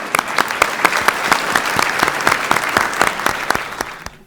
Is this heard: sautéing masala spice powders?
no